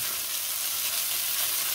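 Feta cheese fries in a hot pan, giving a steady, dense sizzle that holds evenly throughout at close range, with no talking.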